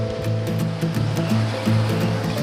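A jet of water washes down a used Honda GX160 small engine, a loud, continuous rushing spray over a low, steady motor hum, with no voices.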